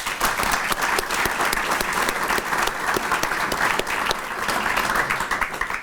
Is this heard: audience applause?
yes